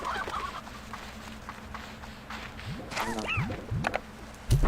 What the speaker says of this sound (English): There's way too many chickens in there.